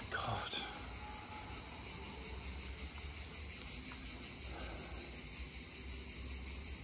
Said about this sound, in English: Sorry about the crickets, they're very loud, they're outside